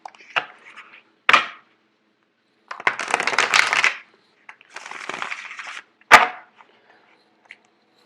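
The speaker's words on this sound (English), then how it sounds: "I'm actually going to do one more shuffle." Tarot cards are shuffled in several short bursts of riffling and snapping, separated by silent pauses, close and crisp.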